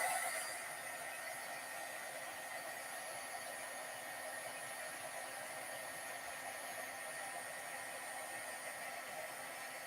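A heat tool blows steadily to dry blended ink on a stamping project, a constant close whooshing hiss with an electric whine that holds an even level from start to finish with no talking.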